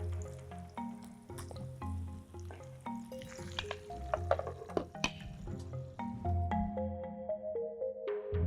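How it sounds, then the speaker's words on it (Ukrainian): Chopped onion frying in freshly rendered pork fat with cracklings gives a steady, close sizzle and bubbling, with occasional scrapes and knocks of stirring throughout. "А тепер кидаємо сюди цибулю."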